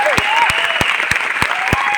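An audience at a success celebration event in Delhi claps in a steady, evenly spaced rhythm, about six sharp claps in two seconds over a sustained tonal hum.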